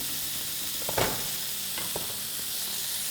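Rib eye steak searing in a hot pan with crushed garlic cloves, a loud continuous sizzle and crackle with a couple of sharper bursts as things shift in the fat, no voices.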